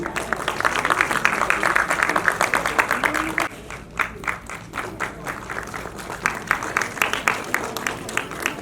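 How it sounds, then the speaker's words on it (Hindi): An audience at a charity foundation event gives the chief guests loud, sustained applause. It dips briefly, then swells again with scattered individual claps. "जोरदार तालियां हमारे मुख्य अतिथियों के लिए।"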